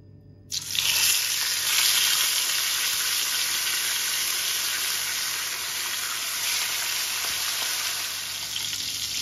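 Duck breast and vegetables hitting sesame oil in a hot pan set off a loud, steady sizzle that starts abruptly and continues without pause, with a few stirring sounds and a low hum underneath.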